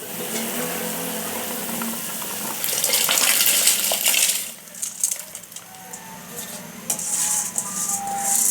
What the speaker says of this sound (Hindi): अब इसमें हम चावल ऐड कर लेंगे।